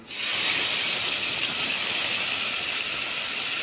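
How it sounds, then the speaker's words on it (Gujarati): Crushed garlic chutney hits hot oil as a tempering for a dhokli vegetable curry. It starts with an instant loud hiss that holds as a steady, close sizzle. "આ લસણની ચટણી ખાંડેલી હતી તેનો આપણે વઘાર કરીશું"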